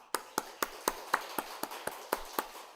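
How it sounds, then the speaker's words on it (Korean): Hands clapping at a church special service: about ten crisp, evenly spaced claps in a steady rhythm, close and clear, with no talking over them. "이 클랩을 박수치는 것을 클랩이라고 해요."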